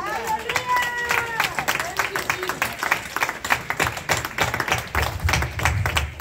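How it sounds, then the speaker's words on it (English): A church congregation claps along in a quick, rhythmic beat during worship, the sharp hand strikes loud and close, with voices singing and calling out over them at the start. "Clap your hands and give God glory."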